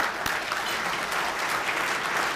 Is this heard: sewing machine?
no